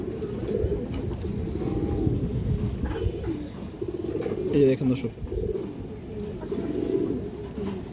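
A restless pigeon coos in low, repeated rolls among other birds, with someone talking briefly over the sound partway through.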